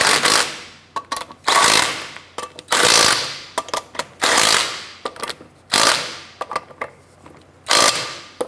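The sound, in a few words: tool snugging down lug nuts on Chevrolet Impala wheel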